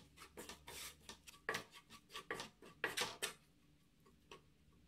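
A spoon scrapes and taps rhythmically through a bowl, mixing chili and asafoetida powder into a mango-ginger pickle; the strokes are close and fairly quiet and come in short repeated bursts before trailing off, with no talking.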